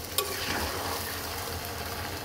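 Country chicken curry with cabbage being stirred in a pan, steady close scraping and mixing over a soft sizzle of the thick simmering gravy, with no talk.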